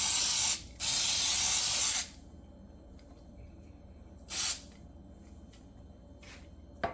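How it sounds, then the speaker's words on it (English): Baking spray hisses into a cupcake pan in several bursts, two longer blasts early on and then a short one a few seconds later, close and clear with no talking. "I'm gonna use the spray for the cupcake."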